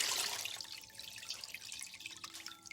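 Tap water runs onto a face cloth at a bathroom sink, a trickling, dripping flow near the mic that eases off and turns into scattered drips.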